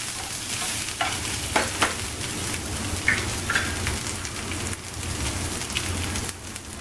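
Curry leaves, ginger and green chillies crackle and sizzle in hot oil for a spicy buttermilk porridge, a steady close hiss like rain with occasional sharper pops and spatters.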